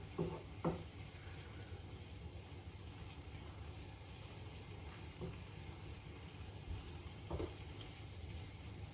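Food sizzles quietly and steadily in a frying pan while being turned over, with a few soft scrapes and clinks of the utensil against the pan and no talking.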